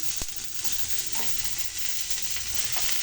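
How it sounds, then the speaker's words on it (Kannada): Mint leaves frying in oil for egg biryani give a steady, close sizzle and crackle with a few stirring clicks against the pan throughout, no talking. "ಪುದೀನ ಹಾಕ್ಕೊಂಡು ಸ್ವಲ್ಪ ಫ್ರೈ ಮಾಡ್ಕೊಳ್ತೀನಿ"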